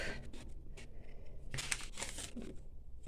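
A paper gift bag is handled up close, giving crinkling and rustling paper sounds that swell in short bursts over about three seconds, with no voices.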